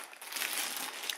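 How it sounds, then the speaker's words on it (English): Styrofoam packing from a Zalman ZM T4 PC case squeaks and crinkles as it is handled during unboxing, a brief, close, continuous rustle with no talk. "It's just some styrofoam."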